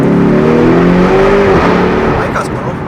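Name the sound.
car accelerating hard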